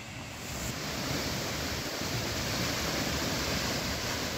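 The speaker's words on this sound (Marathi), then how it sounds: "बीड जिल्ह्यात झालेल्या मुसळधार पावसामुळे कपिलधार इथला धबधबा ओसंडून वाहू लागलाय" Kapildhar waterfall in Beed district, swollen and overflowing after heavy rain, roars as a dense, constant broadband rush, loud and unbroken throughout with no voices.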